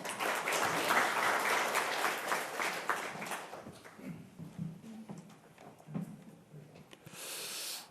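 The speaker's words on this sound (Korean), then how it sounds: "박수로 맞아주시길 바랍니다" Audience applause welcoming a speaker at a panel discussion forum on digital piracy and copyright education, moderate clapping that tapers off into scattered claps and room noise.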